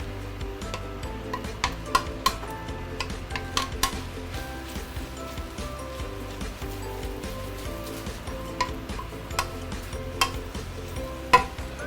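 Singapore-style fried beehoon being stir-fried in a pan, with a steady low sizzle under repeated scraping and clacking of a utensil against the metal, spatula taps sounding close and irregular throughout.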